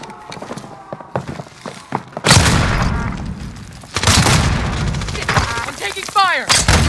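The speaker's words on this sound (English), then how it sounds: "I'm taking fire!" Call of Duty: Warzone gunfire lands as loud, sharp shots and booming impacts in dense bursts, with players talking over the action.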